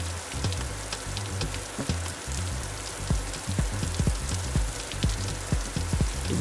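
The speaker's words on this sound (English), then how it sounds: "The rain died down a little bit at least." Rain drumming on a car during a rain and hail storm on the highway, a dense patter with scattered sharper drops and thumps, close and steady.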